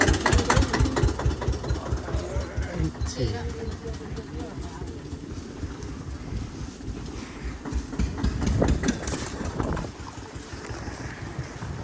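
Tractors roll through a village at harvest time with a loud, rhythmic, chugging engine thump that swells and fades as they pass. Someone talks over the engine noise throughout.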